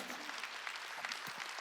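A church congregation at a Korean Wednesday worship service claps hands in steady, dense applause that continues throughout at moderate level.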